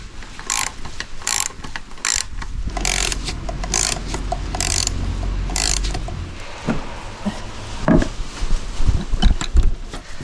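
A ratchet wrench screwing a bolt on a Citroën BX engine, loud rapid clicking bursts in repeated strokes close up, followed by clanking of tools and metal parts.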